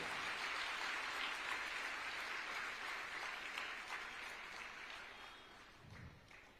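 Dense applause from an audience at a Jain acharya's religious discourse, steady and fairly loud at first, then gradually thinning and fading toward the end.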